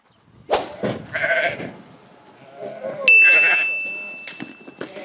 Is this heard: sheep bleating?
yes